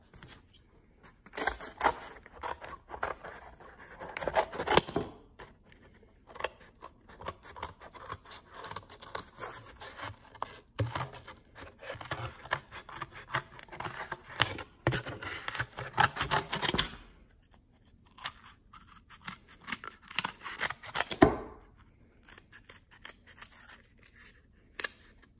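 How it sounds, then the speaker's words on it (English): Scissors cutting two circles out of cardboard or fabric for making pom poms, irregular close snipping and scraping strokes in bursts with short pauses, no talking. "So now all you want to do is cut out your two circles."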